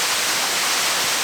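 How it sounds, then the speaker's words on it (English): Lake Creek Waterfall in Zion National Park pours in a dense, steady hiss of falling water, close and loud, with no voices over it. "This is called Lake Creek Waterfall."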